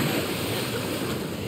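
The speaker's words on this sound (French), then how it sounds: "Alors en plus c'est en mode extrême avec les vagues." Waves crash and churn in the video game The Last of Us Part 1, a dense, continuous wash of rushing water and surf, loud and close, with no speech.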